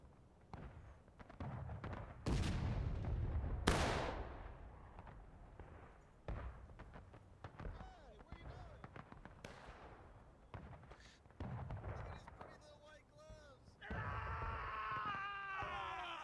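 Musket volleys and artillery fire in the War of Rights Civil War battle game, with scattered loud booms and cracks at varying distances, some sharp blasts close by, amid shouting and battlefield noise.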